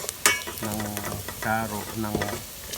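Chicken sizzles and crackles in a hot pan with garlic and onion while a spatula stirs and scrapes, with a voice speaking intermittently over the frying.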